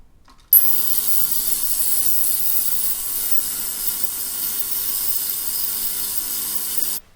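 An Indian-made clone of an Elma Super Elite watch cleaning machine runs for several seconds with a steady mechanical whir and hiss, starting abruptly and stopping cleanly, with no voices.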